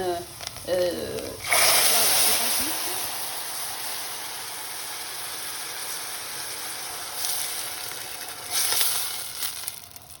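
Paella rice sizzling in a pan just after broth is poured in, a loud steady frying hiss and bubbling that swells and eases, with a voice briefly speaking at the start.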